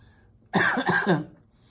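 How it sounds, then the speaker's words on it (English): A single short, close cough, slightly rough, standing out against near silence. "Let it make you cough."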